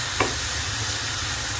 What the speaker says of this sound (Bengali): এখন ভালো করে নেড়ে মশলাটা মিশিয়ে নিব